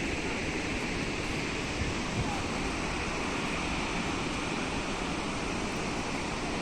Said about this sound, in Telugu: ఇటు పది గేట్లలో నుంచి వచ్చే నీరు చూపరులకు